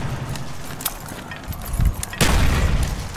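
Grenade explosion in a zombie video game: a sudden loud blast near the end booms out over clattering game noise and scattered impacts, with no talking over it.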